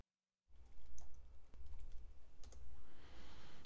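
Close, quiet computer keyboard typing as a track is renamed in Mixcraft 5 music software, a quick run of soft key clicks starting after a short silence and continuing steadily to the end.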